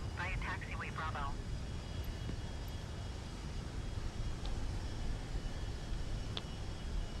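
An Embraer Phenom jet taxiing to parking in Microsoft Flight Simulator 2020, a steady engine hum and broadband whine throughout, with a brief radio voice at the start.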